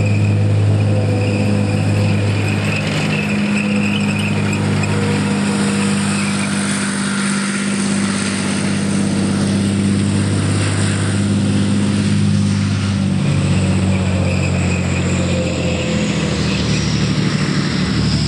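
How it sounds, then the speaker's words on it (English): A tank driving around an outdoor display arena at Bovington, its engine giving a steady, loud low rumble that continues unbroken throughout, with no talk over it. "One of the other things you can see from that tank driving around"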